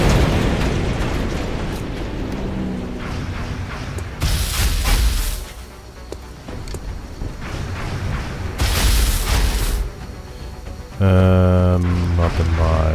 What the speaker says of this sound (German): das explodiert jetzt.